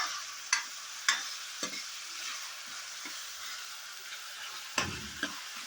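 Onion frying alongside pre-boiled macaroni in a pan, a steady hiss of sizzling broken by a few sharp scrapes and clinks of stirring, close up with no talk.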